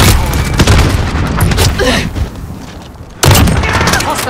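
A heavy grenade blast and bursts of gunfire ring out in Call of Duty: Modern Warfare, loud and close, with a lull midway before another sharp boom and continued shooting, radio-style voices chattering underneath.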